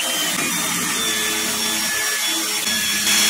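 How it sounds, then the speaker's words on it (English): A drill driving a 6mm bit through a bench top, whining steadily and close up for a few seconds with a slight dip in pitch midway, no voices. "So we're going to be using our 6mm drill bit, do the exact same thing, put it on a bit of an angle, slowly go through"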